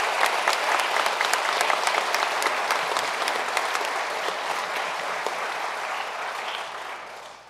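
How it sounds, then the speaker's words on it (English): Sustained applause from a crowd at a police academy graduation ceremony, a full, even roar of clapping that stays strong for several seconds and slowly tapers toward the end. "How about a round of applause for our chain of command?"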